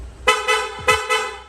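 A Honda Click motorcycle horn restored to its stock setup sounds close and loud in four short honks, two pairs of quick beeps with brief gaps between them.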